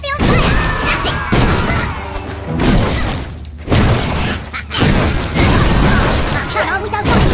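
Loud fire magic spell blasts from the Fable 3 video game, booming bursts crashing in over and over alongside clashing combat noise, with a voice talking through it.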